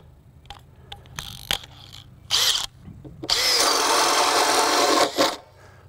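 A Makita 40V max XGT brushless hammer drill bores an inch-and-a-half hole in wood, starting with brief whining bursts and then a sustained loud grinding run that stops abruptly, heard up close.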